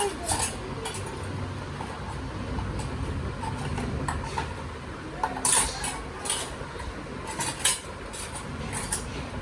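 A child plays by clinking a spoon, making scattered light metallic taps and chinks. They are close but fairly soft, with no talking.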